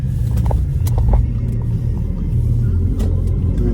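A car driving along Ustanička street in Voždovac, Belgrade, heard from inside as a loud, steady low engine and road rumble with a few faint knocks.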